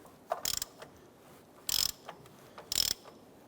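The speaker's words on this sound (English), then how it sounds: "Using a 35mm socket and ratchet, we're going to go ahead and adjust our camber sleeve here." A 35mm socket on a ratchet turning a camber sleeve during a front control arm job: three short, quiet bursts of ratcheting clicks separated by pauses, with faint metallic ticks between them.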